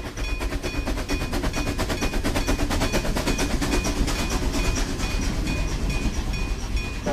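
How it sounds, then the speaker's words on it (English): A train rumbles past with rapid, steady clicking and rattling of wheels on rails, loud and continuous throughout. "The next train will arrive in about 1 minute. Please step clear of the yellow line."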